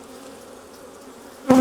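Aggressive honey bees swarm around an open hive in a steady, close buzzing drone, with one bee swelling loud right by the ear at the end.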